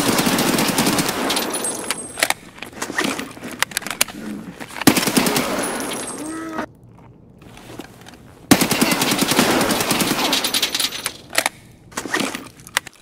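Rapid automatic gunfire in Escape from Tarkov rattles out in long close bursts, broken by a brief quiet pause before another sustained volley.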